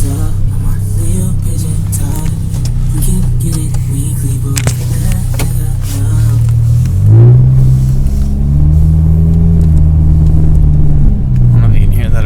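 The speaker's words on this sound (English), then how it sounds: "My car's so loud." Loud low engine and exhaust drone inside a car fitted with an aftermarket muffler, steady rumble that swells as the engine revs up partway through, driving on icy roads.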